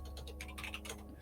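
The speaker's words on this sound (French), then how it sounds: "Ça fait un peu de bruit parce que voilà, le clavier, Michael, tout ça." Rapid, light clicking from a computer keyboard, close and fairly quiet, with soft irregular keystrokes over a steady low hum.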